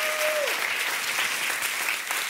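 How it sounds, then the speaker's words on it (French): Audience applauding in a large cinema hall used for a church gathering, a dense, even roar of many hands clapping, loud and sustained throughout, with a brief tone fading at the start. "est-ce qu'on peut les applaudir bien"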